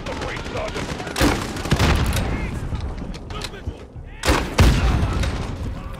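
Gunfire in the Call of Duty: Modern Warfare (2019) campaign mission "The Embassy": a couple of sharp, loud shots with a dense bed of battle noise and a voice talking throughout.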